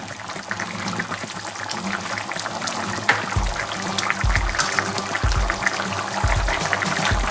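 Baby shark fish gravy bubbles at a rolling boil in a pot, giving a close, continuous burbling with repeated low glugging pops of bursting bubbles and no talking.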